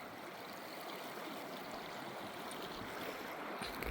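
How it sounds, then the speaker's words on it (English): The North Fork River runs past Dawt Mill as a steady, close rush of flowing stream water, broad and unbroken, with no voices. "Norfolk River by Dawt Mill"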